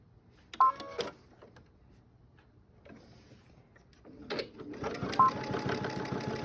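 A sewing machine back-stitches quilt binding, starting with a couple of short stitching bursts and a pause, then running steadily through the second half, close and alone.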